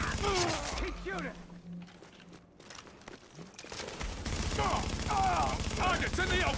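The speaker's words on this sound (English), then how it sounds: "Keep shooting!" Video game gunfire crackles in scattered bursts and rapid volleys, with shouted voices over the shooting and clatter and footsteps in between.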